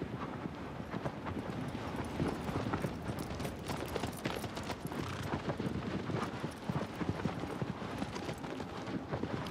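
Hooves of a horse galloping in Shadow of the Colossus on PS5, a steady rapid clip-clop that runs the whole time, loud and close over a dense, noisy game soundscape.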